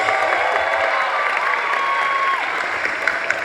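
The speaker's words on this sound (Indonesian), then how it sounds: "Tepuk tangan buat laki-laki." An audience at an Islamic gathering for the Prophet Muhammad's birthday (Maulid) applauds the men, a loud, dense burst of clapping and crowd noise with a faint tone running beneath it.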